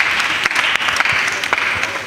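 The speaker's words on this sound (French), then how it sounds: "Acclamez pour elle très fortement." Loud, dense applause from a church congregation cheering for a young girl who passed her exam, steady clapping throughout with a few voices underneath.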